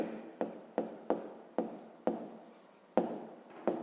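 A pen or pencil writes out a fifth-grade math exercise by hand, giving about ten sharp, close scratchy strokes in an uneven rhythm, each fading quickly, with no speech.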